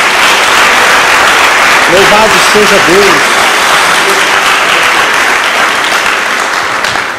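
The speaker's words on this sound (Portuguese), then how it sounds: "Dá uma salva de palmas a Jesus." Congregation applauding during a church service, a steady wash of clapping that runs the whole time, with a voice speaking and briefly singing over it.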